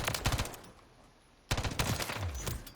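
Short bursts of SMG gunfire in a video game, two clusters of rapid shots separated by a brief lull of about a second, loud and close with no voices.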